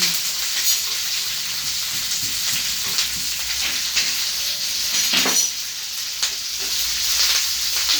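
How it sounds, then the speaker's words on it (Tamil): Crushed garlic sautés in hot oil for curry leaves thokku, a dense, even sizzle close up, broken now and then by soft stirring scrapes, with no voices. "இடித்த பூண்டு இதோட வதக்கிடலாம்"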